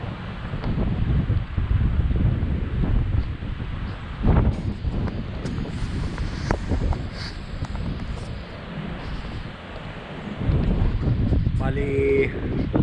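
Strong, cold wind buffets the microphone in heavy, roaring gusts that rise and fall at Rotary Cove in Goderich, with brief louder bursts and a faint rustle underneath.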